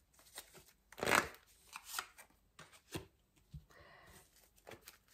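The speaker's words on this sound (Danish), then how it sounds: "Jeg trækker en kort mere." Tarot cards are handled and drawn close up in a quiet room, with a sharp central riffle or slap of cards and softer scattered shuffles and taps around it.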